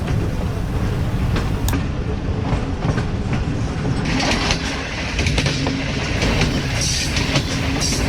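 Hazara Express 12 Down rolling along the track toward Haripur Hazara, heard from inside the carriage as a steady loud rumble with sharp clickety-clack wheel beats over rail joints, not yet at full speed.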